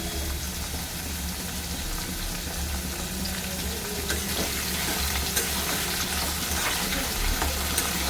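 Red amaranth stalks and potatoes fry in hot oil, a loud, continuous close sizzle with occasional stirring scrapes.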